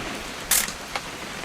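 A camera takes a picture in the video game What Remains of Edith Finch. One crisp mechanical shutter click is followed by a softer second click, with quiet background noise around them.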